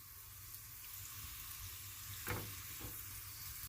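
Tempering spices for tamarind rasam sizzling steadily in hot oil in a small pan, a faint continuous crackle with a brief louder stir near the end before it cuts off.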